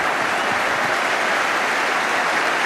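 A football stadium crowd at a West Ham United versus Arsenal match cheers and applauds, a loud, dense, steady roar of clapping and voices filling the whole stretch with no break.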